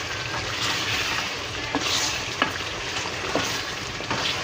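Beef karahi with fresh green coriander is stirred in the pan, giving a continuous full frying sizzle with occasional spatula taps, near and steady, with no voices.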